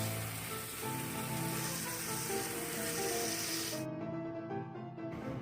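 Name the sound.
wild hog tenderloin searing in oil in a skillet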